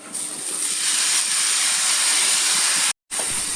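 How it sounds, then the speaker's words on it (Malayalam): Spice paste fries in oil for green gram (cherupayar) thoran, giving a loud, steady, close sizzling hiss that cuts out briefly before resuming, with no talking. "അരപ്പൊന്ന് എണ്ണയ്ക്കകത്ത് നല്ലോണം ഒന്ന് മൂക്കട്ടെ."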